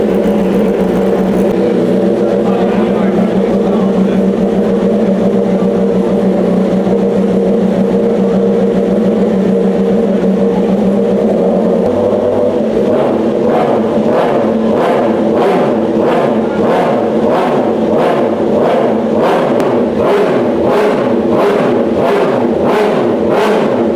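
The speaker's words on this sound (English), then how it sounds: "here we see Peter preparing one of his current race bikes to go on the dyno" Race superbike on a dyno, its engine roaring loudly at steady revs, then rising through a long series of rhythmic, pulsing sweeps as it is run up again and again, close and dominant.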